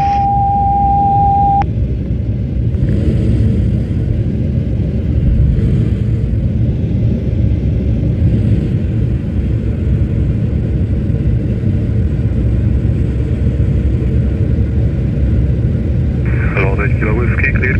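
Antonov aircraft landing on runway 27 in a 240-degree, 8-knot wind: a loud, steady engine rumble runs the whole way through, with radio voices talking over it.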